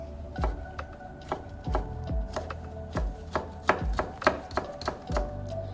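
Steady knife strokes against a cutting board, a sharp tap roughly every half second, close up and with no voices.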